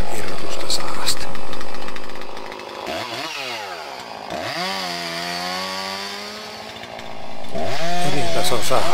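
A chainsaw cuts energy wood, the engine revving high and steady, then dropping and climbing in pitch as the chain bites into the trunk before surging to full speed again, loud and close, with someone speaking over it.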